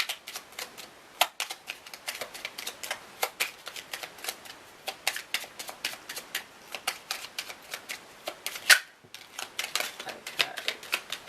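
Oracle cards being shuffled and drawn, with rapid crisp flicks and riffles in irregular bursts, close and clear, with a short pause near the end.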